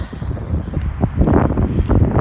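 Heavy wind buffeting a microphone, producing a loud, low rumbling roar that surges and dips continuously.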